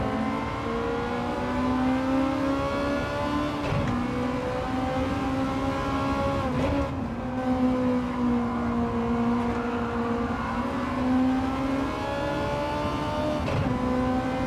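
A Ford Sierra Cosworth in the racing game Gran Turismo 7 runs under steady load, a continuous buzzing engine drone that rises and falls slightly with brief shifts, alone with no talk.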